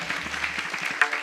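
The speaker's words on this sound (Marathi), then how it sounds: "अगदी मामांसाठी एकदा जोरदार खरंच टाळ्या झाल्या पाहिजेत बरं का" An audience claps together at a devotional kirtan held for Balumama's birth anniversary, a brief burst of dense, steady applause with a sharper clap standing out near the end.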